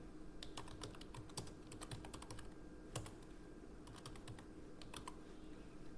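Someone types a mathematical formula on a computer keyboard, producing quick, uneven bursts of close key clicks separated by short pauses, with no speech.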